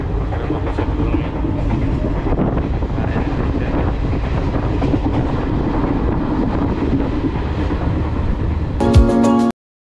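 A passenger train running on the Panvel to Ernakulam route to Kerala, a steady rolling rumble with faint clickety-clack and wind noise that continues throughout, ending with a brief higher tone before cutting off.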